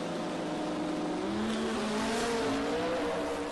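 Lund Racing's "Grey Goose" Mustang GT drag racing side by side against another car, engines roaring loudly and steadily with rising pitch as they accelerate hard down the strip, no talk.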